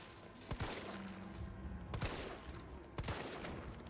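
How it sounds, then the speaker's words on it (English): Gunfire in Resident Evil 3 on Nightmare difficulty: three sharp shots spaced about a second and a half apart, ringing over a steady background of game ambience. "There's two shots."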